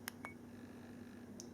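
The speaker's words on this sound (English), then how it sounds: "Beep is obviously beeping now." A Campark X5 action camera gives a few short, faint electronic beeps while its menu settings change, each one brief and separated by quiet gaps.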